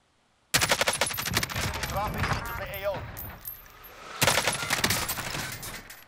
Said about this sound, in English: Oh, somebody's sniping him.